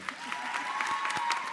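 A convocation audience gives brief, moderately loud applause, a short burst of scattered clapping heard from within the crowd.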